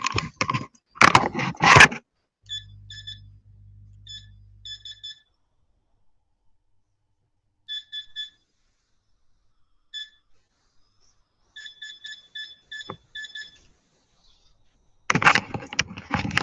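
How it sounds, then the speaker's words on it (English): An electronic device near a camera emits faint, high, clipped beeps in short irregular clusters across a quiet stretch. People talk before and after the beeping. "I still do hear the beep"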